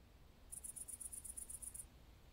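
Rapid bursts of high, shrill cricket chirping, about ten pulses in quick even rhythm, faint and alone over a quiet background hiss, heard in a video game.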